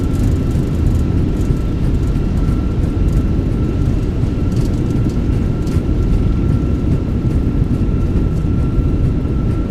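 An Airbus A320 in a flight simulator, rolling out after landing on approach to San Diego with thrust reversers deployed, producing a loud, steady broadband engine roar and rumble that holds constant throughout.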